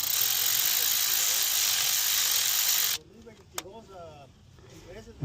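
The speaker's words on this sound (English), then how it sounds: "I'm going to gradually tighten these down with the cordless ratchet." A cordless ratchet snugs down worm-style hose clamps during a 2004 Chevy Tahoe water pump replacement, giving a steady broadband mechanical whir for about three seconds before cutting off, followed by quieter clicks and faint rattling.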